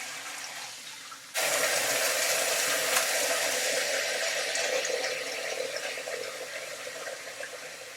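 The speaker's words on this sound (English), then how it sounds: "So I'm just wetting my hands" Water runs from a tap as hands are wetted at a sink, starting abruptly after a short quiet moment and then flowing steadily and loud, close by with a broad hissing splash, easing slightly toward the end.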